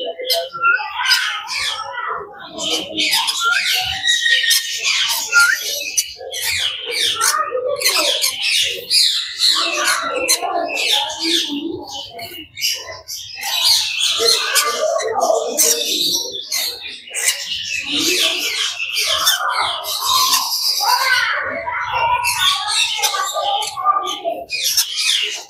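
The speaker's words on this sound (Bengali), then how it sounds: "এদিকে অনেকগুলো পাখি আছে," Many birds at a mini zoo squawk and chirp continuously, a busy overlapping chorus of calls, with an occasional dog-like bark mixed in and some voices nearby.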